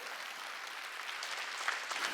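A church congregation claps together during a Korean Wednesday worship service, a steady, dense wash of applause sustained at moderate volume throughout without talk.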